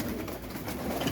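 Roller pigeons coo softly inside a loft on a rainy morning, a short low burbling call heard close by.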